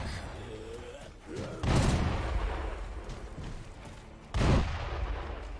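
Gunfire in the video game Sekiro: two heavy, booming shots a few seconds apart, each with a short rumbling decay over low game ambience.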